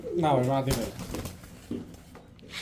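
Pakistani Royal Teddy pigeons coo close by, a rolling, throaty coo early on with softer murmurs after, while someone talks over them.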